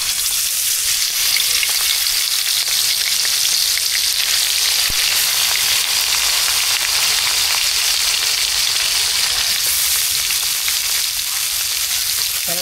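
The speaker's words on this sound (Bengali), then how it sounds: "এটা এখন তেলে ভাজুন সুন্দর করে" Fish sizzles steadily in hot oil, a continuous crackling hiss with no voices, close and loud throughout.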